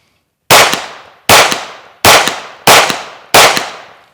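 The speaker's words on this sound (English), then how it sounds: "We're just going to try 5 shots, one hand quickly." Five loud pistol shots from a Beretta APX Centurion fired one-handed, evenly spaced with sharp reports and short decaying echoes, no talking.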